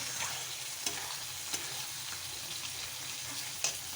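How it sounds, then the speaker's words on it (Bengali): Spice paste for chicken fries in a pan, a quiet steady sizzle with a few sharp clicks of a spatula striking the pan as it is stirred. "মশলাটা দিয়ে দিয়েছি মশলাটা কষে নিচ্ছি"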